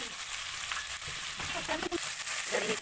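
Pumpkin pulp fries in ghee for pumpkin halwa, giving a steady, close sizzle throughout with some stirring and scraping scattered through it.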